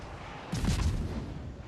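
Heavy naval cannon gunfire from the Russian destroyer Khabarovsk in World of Warships booms once, loud and close, then rumbles away, with no talk over it.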